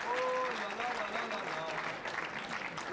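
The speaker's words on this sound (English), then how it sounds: "Listen to the crowd." A crowd applauds at a France versus Belgium pétanque exhibition match, sustained clapping filling the scene from start to finish while a commentator talks over it.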